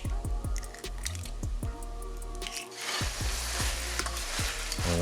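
Sausage sizzles and browns in a pan while being broken up and stirred, with steady close frying crackle and repeated scraping strokes of a utensil against the pan, no voices.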